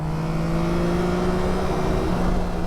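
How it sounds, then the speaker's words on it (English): A Yamaha Tracer 9 GT+ motorcycle engine holds a steady, droning rev, its pitch fairly constant and then dipping slightly near the end, close and continuous without speech. "it's certainly not afraid to let the bike rev a little bit"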